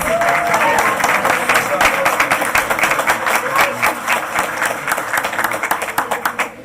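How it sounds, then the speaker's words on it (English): An audience at a school board meeting gives a big round of applause for varsity district champions, loud dense clapping that thins into scattered claps toward the end, with some voices mixed in. "let's give our varsity champions, district champions, a big round of applause"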